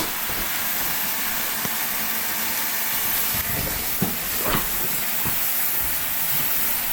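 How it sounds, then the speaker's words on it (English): Tap water runs steadily into a cooking pot at a kitchen sink while oxtail is being prepared, a constant close hiss with a few soft knocks of the pot. "So now I'm gonna run to the sink. I'm gonna just fill this up with water"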